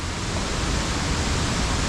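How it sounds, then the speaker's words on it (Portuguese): Cachoeira Filho, a waterfall in Sana near Macaé, Rio de Janeiro, pours in a dense, constant rushing roar heard up close, steady from start to finish. "Vou mostrar aqui pra vocês agora a cachoeira Filho."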